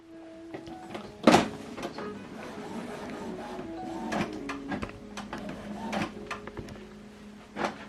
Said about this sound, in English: Right now it's processing the ink install.